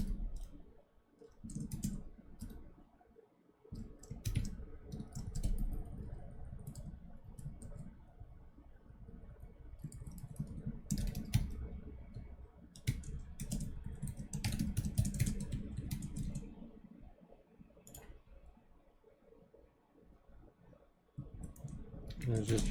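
Code being typed on a computer keyboard, steady runs of close key clicks and clatter with short pauses, a voice talking quietly in the background.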